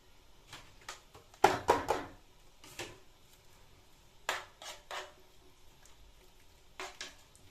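Chicken pasta with cheese being stirred in a pan, with intermittent scraping strokes and soft clatter over a quiet kitchen background, several bursts spaced irregularly.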